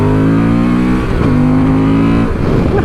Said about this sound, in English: that induction noise is crazy good